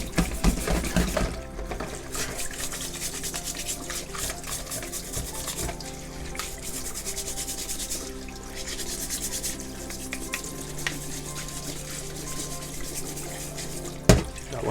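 A sea crab is scrubbed under a running tap, a steady wash of flowing water mixed with rough brushing and rubbing strokes, close by, with a sharp knock near the end and no talking.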